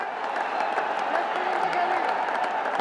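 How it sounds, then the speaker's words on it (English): Dugout, team mentor and owners applauding a batsman's century at a Bangladesh Premier League cricket match, steady dense clapping and crowd noise throughout, with a commentator's voice over it. "the entire dugout as well as the mentor and the owners applauding the effort of Usman Khan"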